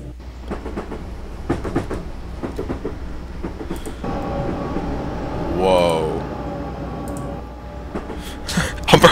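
Train accelerating in the Train Simulator 2013 video game: rhythmic clickety-clack of wheels over rail joints and a rising engine drone, with a squeal near the middle and speech mixed over the rolling noise throughout.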